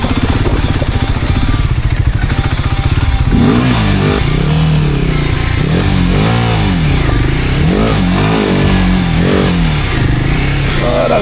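Dirt bike engine on a muddy, wet grassy trail in Brittany, loud and close, idling roughly before surging into repeated revs that rise and fall continuously, with no talking over it.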